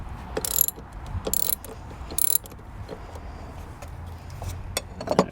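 A ratchet wrench loosening the positive battery terminal on an Acura MDX, with short bursts of rapid clicking separated by quiet pauses and faint handling noises.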